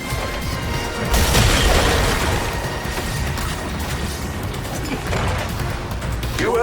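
A loud, booming explosion from a modified Kryptonian thunderclap in the video game Suicide Squad: Kill the Justice League bursts in after a second and rolls on as a dense, crashing roar with scattered debris-like clatter.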